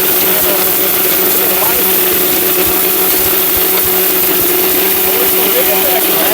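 A Bosch electric blender runs loud and steady at high speed, a continuous whirring motor drone with a grinding edge, holding constant throughout with no speech over it.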